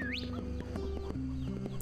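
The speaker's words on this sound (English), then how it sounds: "Yo, we got some chickens." Chickens clucking in the video game NieR, a couple of short clucks and chirps heard over a quiet ambient game backdrop with a low steady tone.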